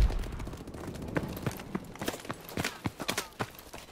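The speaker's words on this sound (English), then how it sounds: "Somebody shooting at me from back here?" Gunfire in Call of Duty Advanced Warfare, a rapid, irregular series of sharp close shots and impacts crackling over about four seconds with no talk over them.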